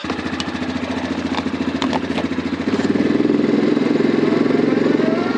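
Four-wheeler ATV engine thrums at a steady mid-pitched pace while riding out across a property, rising a little louder partway through as the throttle opens, with no talk over it.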